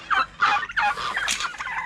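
Young turkeys gobble in a quick run of bubbly, warbling calls, several bursts within two seconds, close and moderately loud with no talk over them.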